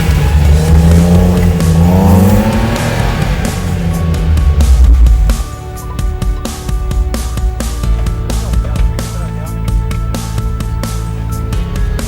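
Jeep engine labouring in one very low gear as it climbs an off-road 4x4 obstacle, a loud steady motor drone that eases slightly partway through, with no talking.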